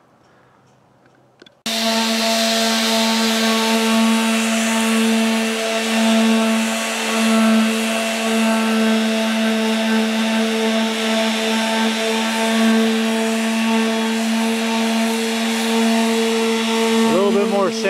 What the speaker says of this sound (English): A little bit more sanding out here just to take off some of the excess resin.